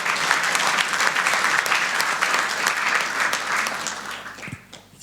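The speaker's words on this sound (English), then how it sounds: "let's give a round of applause to Jussi" Applause from a conference audience at Iglooconf 2020, a dense burst of clapping that holds steady for several seconds and then thins out and fades near the end.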